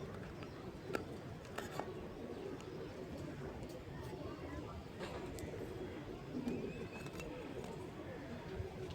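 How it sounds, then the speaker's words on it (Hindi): Soft, low pigeon cooing from a bird perched overhead repeats in the background over a steady outdoor hum, with faint chirps and distant voices. "ऊपर कबूतर बैठा हुआ है"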